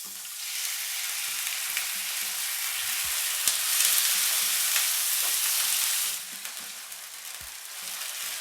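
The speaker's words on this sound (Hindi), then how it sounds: "लहसुन को हल्का सा ऑयल में फ्राई करने के बाद इसमें शामिल करेंगे चिकन" Chicken frying with chopped garlic in hot oil, a loud continuous sizzle with occasional utensil clicks and scrapes, easing slightly near the end, no talking.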